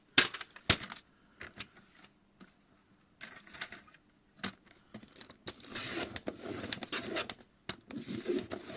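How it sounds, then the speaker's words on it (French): A journaling page is cut in two with scissors and paper, heard as close, irregular snips and crisp rustles scattered over several seconds, with busier rustling toward the end. "je vais prendre du coup cette page-là que je vais couper en deux"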